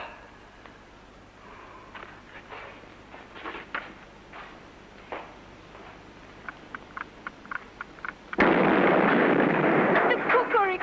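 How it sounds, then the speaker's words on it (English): An automatic cooker explodes with a sudden loud, roaring burst that keeps sounding for a couple of seconds, after a stretch of quieter clicks and knocks. "The cooker exploded."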